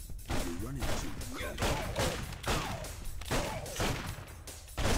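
Gunfire crackles in rapid bursts during a boss fight in the brawler video game Final Fight: Streetwise, dense and punchy, with repeated shots and thuds spread across a few seconds.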